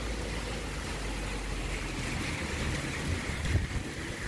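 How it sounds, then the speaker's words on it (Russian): Strong typhoon Maysak winds roar steadily outside a window, a loud, continuous rush that swells into a heavier gust toward the end. "такой сильный порыв ветра."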